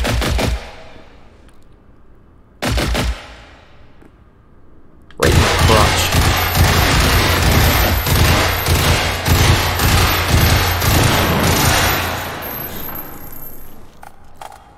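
Gunfire in a firefight against robots in Generation Zero: two single loud shots with ringing tails, then a sustained roaring barrage of rapid automatic fire that lasts about nine seconds before fading out.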